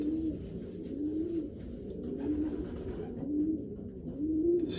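A racing pigeon from a breeding loft coos in a low, rhythmic series of about five soft calls, roughly one per second, close by with no talk.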